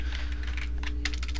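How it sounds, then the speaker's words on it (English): A cat walks across a computer keyboard, producing scattered soft key clicks and taps close by over a low steady hum. "Cat stepped on the keyboard."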